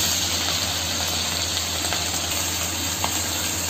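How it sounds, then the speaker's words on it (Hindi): Ginger garlic paste frying in butter in a pan for restaurant-style paneer lababdar, a steady close sizzle with soft bubbling and no talking. "इसमें हम अदरक लहसुन पेस्ट डालेंगे एक चम्मच। इसको थोड़ा सा भूनेंगे।"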